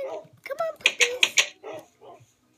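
Game dogs in the Dogcraft video game bark and yip in a rapid burst of several close, loud barks that mix with a person talking.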